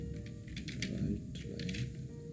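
Quick bursts of keystrokes on a computer keyboard, close and steady, as code is typed in Visual Studio for a C# console application, with no voice.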